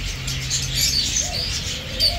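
Grey royal pigeons coo softly at an outdoor animal and bird market by the old bridge in Baghdad, with a low steady coo under busy market background noise and faint chirps.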